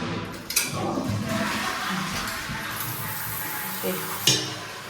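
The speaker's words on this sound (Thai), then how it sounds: "เดี๋ยวดูน้ำก่อนแรงไหม นี่โอเคน้ำแรงกว่าเดิมเยอะนะคะ" Strong water gushes from a tap in a rental room under renovation, a steady rushing splash close by with a few knocks and a person talking over it.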